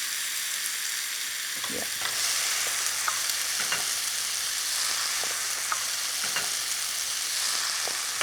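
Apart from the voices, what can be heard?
dal added to the pan, frying and sizzling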